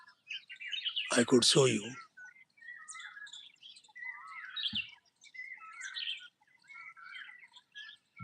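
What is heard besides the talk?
birds chirping on a nature walk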